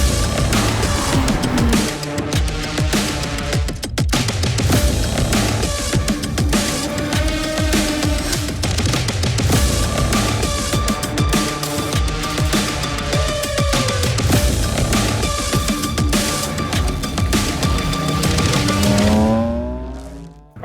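BMW E46 M3 track car lapping Sonoma Raceway, its engine loud and continuous throughout with rising and falling revs through gear changes, brief tire noise, fading out at the end.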